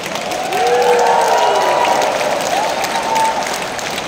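A crowd at a Bulacan church general assembly claps loudly and continuously, a thick rolling wash that swells early and holds, with faint voices or a tone blending in beneath.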